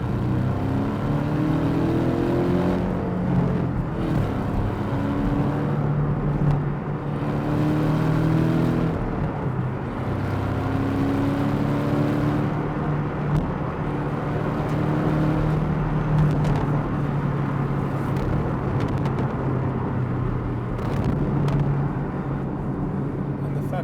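Porsche 718 GTS 2.5 with PDK transmission accelerating hard after a downshift, a steady loud engine drone rising in pitch through the gears, with a voice talking over it throughout.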